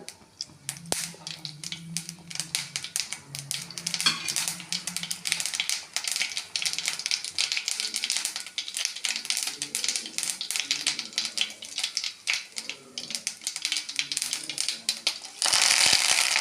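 Mustard seeds spluttering in hot coconut oil in a pan, a dense run of rapid crackling pops and sharp ticks continuing unevenly throughout, close and fairly loud.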